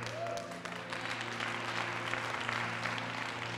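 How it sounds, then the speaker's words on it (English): Congregation in a church applauding, a dense steady wash of many hands clapping throughout, moderately loud with a low sustained tone underneath. "Clap those hands, all ye people."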